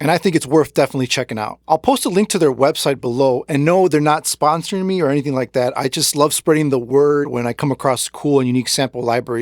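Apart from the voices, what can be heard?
No distinct noise like a dog, phone or traffic.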